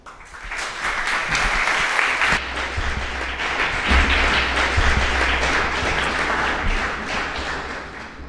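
Sustained, dense applause from a large audience fills an honorary doctorate ceremony at the Université de Tours, steady and loud throughout with no voices over it.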